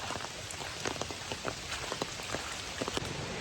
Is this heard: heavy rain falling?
yes